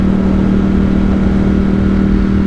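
An Aprilia RSV4 1100 V4 sport bike engine holds a loud, steady drone at constant revs with a strong low hum and no voices.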